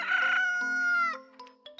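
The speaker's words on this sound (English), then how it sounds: "Nicely done. That's the rooster." A rooster crows in a Stanley children's video game, one clear, drawn-out cock-a-doodle-doo followed by a few short clucking notes.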